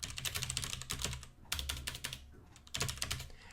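Quick bursts of computer keyboard typing as terminal commands are entered, close and crisp clicks in rapid clusters with brief pauses between words.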